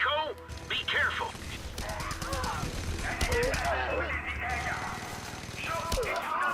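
Rapid mounted-gun fire in the game Just Cause 2, bursts of crackling shots with mechanical clatter running through the clip amid other game effects.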